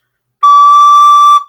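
Recorder sounding a single high D, one clear pure sustained tone lasting about a second, loud and close, ending with a short fade.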